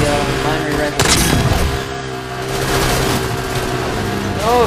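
Rapid gunfire and blasts from the co-op mining shooter Deep Rock Galactic, with a sharp burst about a second in and a dense, continuous layer of game noise throughout.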